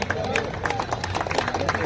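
Clapping and crowd murmur from spectators at a village cricket grand final as the man of the match is honoured, dense scattered claps under steady babble and background voices, moderately close.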